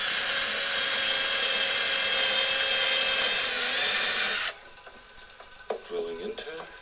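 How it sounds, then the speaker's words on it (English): A power drill fitted with a 5mm bit whines steadily and loudly for several seconds at close range, drilling a hole while building an extension lead for a movable tool stand, then stops abruptly, followed by a few quiet knocks and handling sounds. "just using a 5mm drill bit"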